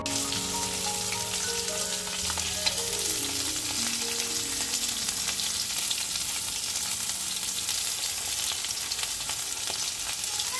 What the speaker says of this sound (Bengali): এখানে চিলি চিকেনের জন্য চিকেন পকোড়া ভাজছি।